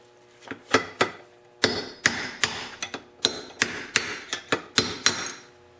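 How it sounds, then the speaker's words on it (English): A hammer taps repeatedly at a steady pace on a drift to drive out a front wheel bearing from an ATV hub, giving sharp metallic knocks at close range with no talking. "And now just tap it, and soon you're going to see the bearing coming out of here."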